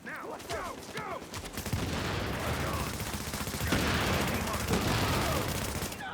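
Rapid video game gunfire in a boss fight, a dense fusillade of shots that thickens into sustained heavy firing, with a voice talking briefly near the start.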